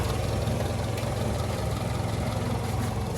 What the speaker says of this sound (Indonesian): Mesin garing